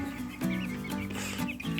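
Cheonggye chickens, around three dozen young birds in a coop, clucking and calling in a steady overlapping chatter, fairly close and moderately loud, with no voices over them.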